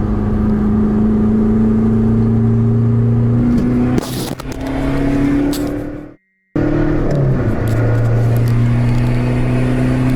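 A nearby car engine with a free-flowing exhaust roars steadily and climbs in pitch as it revs, dropping out briefly for a moment before the loud droning resumes, in a forest.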